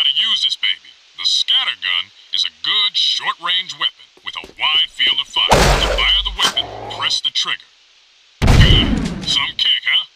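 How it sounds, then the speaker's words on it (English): Weapon fire in the video game Jak 2: two loud, booming shots, each with a long rumbling decay, separated by a few seconds and set between stretches of someone talking. "It's not the fastest firing weapon in the world, though."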